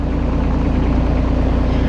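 A Gianni Ferrari diesel ride-on mower engine running close by after being fired up: a steady, low, throbbing idle with an even rhythmic chug.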